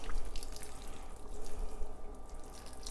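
Water from a thorough watering with a hydrogen peroxide mix drains and drips out the bottom of a houseplant pot, a steady close trickling and splashing that lasts throughout with no talk.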